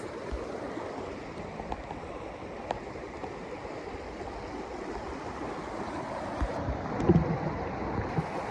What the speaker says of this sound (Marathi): एक मिनिटासाठी तुम्ही पाण्याचा आवाज फील करा गाईज.